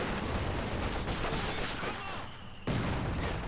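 Dense, continuous gunfire from a Fallschirmjäger squad's FG42 assault rifles in a real-time strategy game, steady and loud throughout with a brief dip near the end before the rattle resumes.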